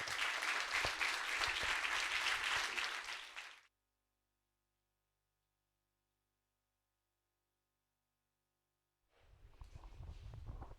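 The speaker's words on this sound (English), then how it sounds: "we'll have a round of applause for our guest, Sir Sabaratnam Arulkumaran" An audience at a MEDtalk session gives a round of applause for guest Sir Sabaratnam Arulkumaran, loud dense clapping for several seconds that cuts to silence, then quieter room noise returns.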